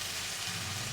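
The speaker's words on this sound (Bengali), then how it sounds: "রসুন বাটা একটু কাঁচা গন্ধটা থাকবে না এভাবে করে ভেজে নেব" Garlic paste frying in a pan while cooking a home-style curry, a steady soft sizzle close by, continuous and even for the whole second with no talking.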